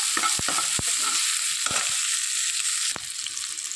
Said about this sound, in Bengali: চিংড়ি মাছটা উল্টে পাল্টে ভেজে নিচ্ছি,